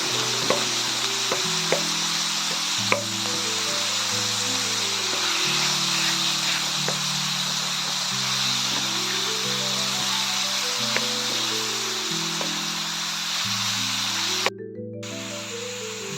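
Ground beef sizzles and fries steadily in a pan, a continuous hiss with soft stirring scrapes, close and moderately loud, while a melodic background tune plays throughout without any talk.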